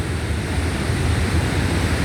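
Barron Falls waterfall in flood after heavy rain, a steady broad roar of rushing water that is loud and constant throughout with no pauses, like heavy surf.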